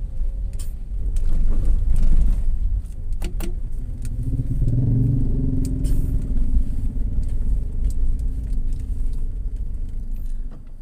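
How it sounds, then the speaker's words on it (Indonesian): A car edges past on a narrow, muddy village road in Tegalgede, its engine rumbling close by and rising then easing as it squeezes through, with no talk over it. "Akhirnya kita berpapasan dengan mobil"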